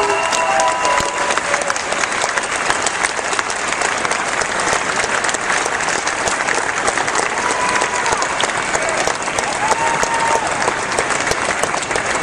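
A crowd at a Michigan Democratic political rally breaks into loud, dense applause, continuous clapping that holds steady for about twelve seconds.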